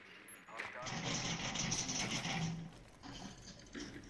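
Rapid gunfire in the tactical shooter Rainbow Six Siege on a yacht map, with bursts of shots crackling over game noise and muffled background sound, fairly close and sustained for a few seconds.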